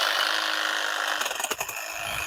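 An EGO cordless hedge trimmer whines steadily, then briefly chatters and snaps through thicker branches about 1/4 inch across, close by, the blade note faltering as it bites before settling back to a smooth buzz.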